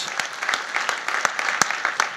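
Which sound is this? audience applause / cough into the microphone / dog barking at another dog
audience applause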